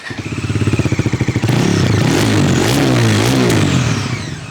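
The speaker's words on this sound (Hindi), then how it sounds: "एक बार एग्जॉस्ट नोट मैं आप लोगों को सुना देता हूँ" A Bajaj Dominar 400 motorcycle with a dual-barrel exhaust idles with a rapid, throbbing exhaust pulse, then revs up loudly and rises before settling back down, close by.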